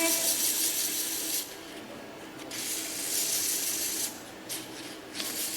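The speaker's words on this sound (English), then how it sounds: "I'm gonna do some sanding over here. I'm gonna start with my 220 and then my 400." Continuous hand sanding with 220-grit sandpaper, a steady hissing rasp that pauses briefly a few times, close and fairly loud.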